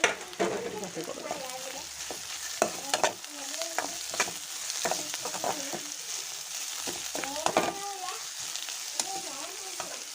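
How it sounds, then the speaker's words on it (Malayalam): Onions sizzle in a pan as ginger and curry leaves are added and stirred for a kingfish roast, with a steady frying hiss and intermittent scraping strokes close by. "ഇനി നമുക്ക് എടുത്ത് വെച്ചിരിക്കുന്ന ഇഞ്ചി കറിവേപ്പിലയും ചേർത്ത് കൊടുക്കാം."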